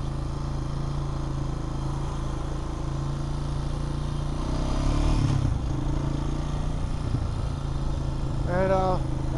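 A Honda Rancher four-wheeler ATV engine runs steadily at a low idle-like drone throughout, with a brief rise in effort midway and a short higher whine near the end, close by and continuous.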